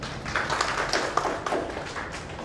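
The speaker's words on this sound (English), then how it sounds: "We'll have a round of applause for Goel sir" Brief, scattered clapping from a small audience welcoming a company CEO at an accessibility awareness event, a loose patter of hand claps with a few sharper taps, steady and moderately close.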